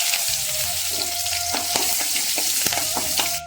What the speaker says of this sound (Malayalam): എന്നിട്ട് നമുക്ക് കടുക് പൊട്ടിക്കുക